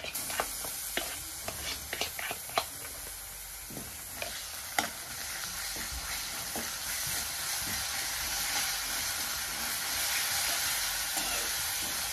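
Chopped green chili and garlic go into hot oil with browned onion. They sizzle steadily and close by, with a spoon scraping and clinking the pan near the start, and the frying continues alone.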